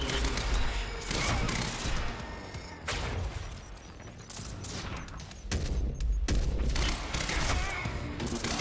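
Bursts of gunfire in the Xbox One game Quantum Break, loud and dense, coming in waves with short breaks between them and heavy booming impacts underneath.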